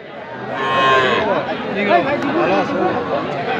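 Cattle market at Aftabganj haat in Bangladesh, with cows lowing loudly and nearby amid a steady hubbub of crowd chatter and people talking throughout.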